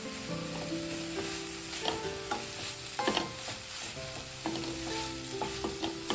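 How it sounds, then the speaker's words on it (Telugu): Coconut fries in a pan with rice for amla coconut rice, producing a continuous close sizzle with scraping stirs and small clatters of the utensil throughout. "కొబ్బరిని కూడా మంచిగా ఫ్రై చేద్దాం."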